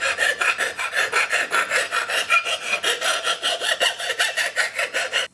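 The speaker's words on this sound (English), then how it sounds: "I'll just go around and file these burrs off of each propeller piece here to clean them up." A hand file scraping burrs off the metal blades of a boat propeller, a steady rhythm of rasping back-and-forth strokes, close and clear with no talk.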